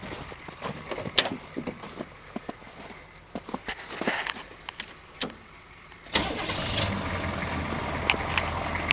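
A vehicle engine in snowy northern cold cranks over with hard, uneven turning, then catches and settles into a steady, close idle that continues to the end.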